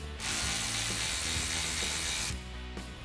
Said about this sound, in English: Then we can come in with the old ratchet here and loosen up the clamp on our throttle body.